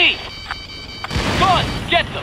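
A sudden booming blast with a rumbling tail in the combat flight game Ace Combat: Assault Horizon, mixed with shouted voices and chirpy electronic effects.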